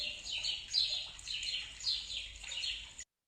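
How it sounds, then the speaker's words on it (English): Small birds in Morocco chirp and tweet in quick, repeated bright calls, faint and fairly distant, with no voices, before the sound cuts off abruptly. "I love the sound of the birds"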